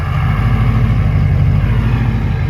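A Ford Super Duty truck engine idles nearby, a steady loud low rumble that holds constant throughout with no talk.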